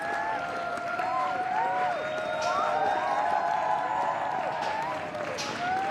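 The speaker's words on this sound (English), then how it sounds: "A big cheer and a wave" Crowd in a London street cheering and clapping as government leaders arrive, a steady mix of distant applause and shouts with several whistles, a broadcaster's voice audible over it.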